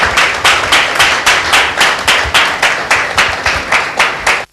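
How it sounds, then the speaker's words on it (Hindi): A church congregation at a Sunday meeting claps in unison, about fourteen sharp, evenly timed claps that ring out loud and close before stopping abruptly. "एक जोरदार ताली परमेश्वर की महिमा में देंगे।"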